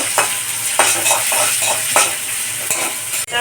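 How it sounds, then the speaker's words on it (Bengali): Chopped onions and green chilli frying in oil in a pan for a Bengali curry, a steady sizzle broken by several scraping stirs of a spoon at intervals, close and fairly loud, with no speech. "পেঁয়াজটা লাল লাল করে ভেজে নেব"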